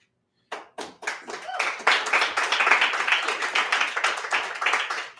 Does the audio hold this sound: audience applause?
yes